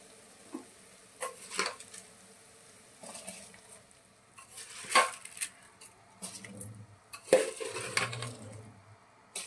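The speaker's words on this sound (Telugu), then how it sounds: "ఇప్పుడు వాటర్ మరుగుతుంది అండి. ఇందులోకి మనం రైస్ వేసేసుకుందాం." Rice is added to a pot of boiling water for vegetable pulao, giving irregular rattling pours and scrapes against the pot over a low bubbling, moderately close and with no talk.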